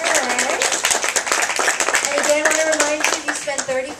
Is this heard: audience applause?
yes